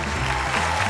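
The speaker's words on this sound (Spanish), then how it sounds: "Quiero que reciban con vítores, piropos, aplausos y gritos a nuestro presentador" Brief, dense audience applause and cheering in a TV studio as a show host is introduced, a loud steady wash of clapping with no gaps.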